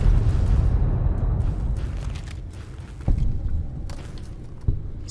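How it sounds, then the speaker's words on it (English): Explosion in Fallout: New Vegas Old World Blues, a loud booming burst with rumbling decay, followed by two sharper thuds a second or two apart, with no talk over it. "Let it explode."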